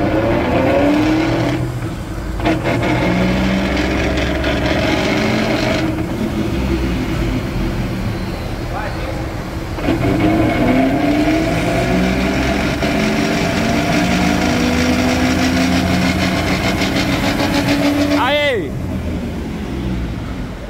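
A Chevrolet S10 pickup running on mismatched tire sizes drives with a loud steady engine drone and shifting tonal whine, revving up near the end, while people talk over it.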